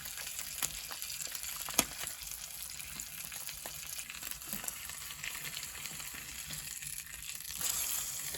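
Summer sausages and an egg frying on a potbelly stove give off a quiet, steady crackling sizzle with scattered pops and scraping clicks, the sizzle swelling slightly at the end.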